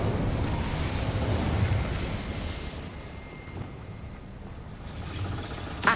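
An Incendio fire spell erupts in Hogwarts Legacy with a loud, rumbling blast that roars at first, then thins into a lingering fiery hiss, with a sharp pop near the very end.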